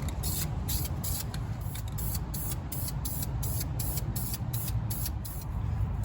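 Aerosol spray paint hissing in rapid short bursts as a coat goes onto car brake calipers, a steady rhythmic series of close pulses over a low background hum.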